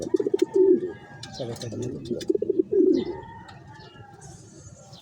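Pigeons cooing in repeated rhythmic bursts close by, with scattered chirps and rustling, a voice speaking briefly over them.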